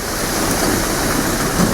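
Wet concrete pours straight from a concrete truck into a pool floor at a house build in the Philippines, making a loud, steady rushing, sloshing wash that carries on unbroken with no voices.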